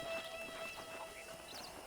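Horse hooves clip-clop in the Red Dead Redemption video game, a faint, steady trotting patter of hoofbeats set against a low background ambience.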